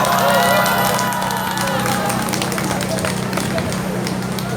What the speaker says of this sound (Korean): 큰 박수로 맞아주시길 부탁드리겠습니다.